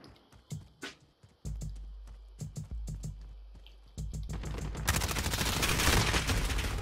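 Video game gunfire: sharp rapid shots in uneven bursts, building into a dense continuous volley of automatic fire toward the end.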